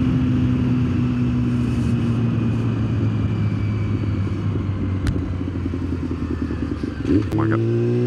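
A motorcycle rides by on a road, a steady engine drone with a rising whine as it passes close near the end, over continuous low rumble and wind.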